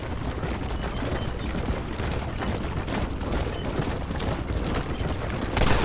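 Gunfire from a wagon chase in the Red Dead Redemption video game: dense, continuous volleys of shots blend with galloping hooves and rumbling wheels, loud and busy throughout.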